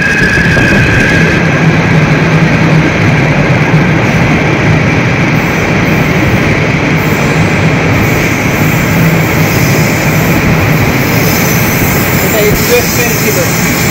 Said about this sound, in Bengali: আসছে আমার ট্রেন।